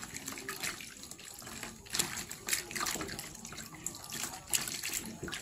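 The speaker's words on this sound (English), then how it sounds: "And then now I go in and rinse it." Running water from a bathroom tap splashes steadily during a nighttime skincare rinse, a close, continuous hiss with irregular splashy bursts as hands and face meet the stream.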